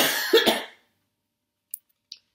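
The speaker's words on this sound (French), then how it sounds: "Aujourd'hui, je tousse." A single person coughs a couple of times up close, with a harsh throat-clearing burst, then silence broken by two faint small clicks.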